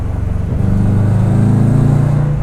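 A 2001 Subaru Impreza L coupe fitted with a swapped WRX turbo engine rumbles close by, its steady low engine note rising into a sustained rev and holding loud and continuous with no talk.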